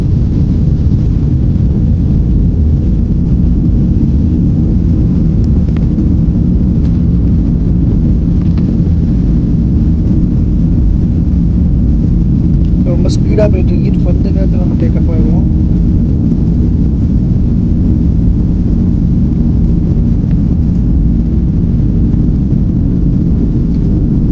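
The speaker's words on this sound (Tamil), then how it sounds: "டேக் ஆஃப் ஆக போகிறோம்" The engines of a Fly Dubai airplane roar steadily during takeoff, heard from inside the cabin. The loud, continuous rumble does not let up, and a voice briefly sounds faintly over it.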